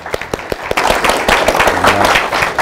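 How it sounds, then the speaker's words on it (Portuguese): Applause in a television studio at the close of an election debate, starting with a few scattered claps and swelling into fuller clapping from the group. "eu acho que nós merecemos uma salva de palmas"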